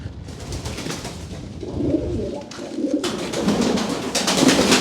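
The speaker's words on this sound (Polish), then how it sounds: "Chciałam wam gołębie pokazać." Pigeons coo softly and repeatedly, low throaty calls overlapping in a close space with some rustling and shuffling around them.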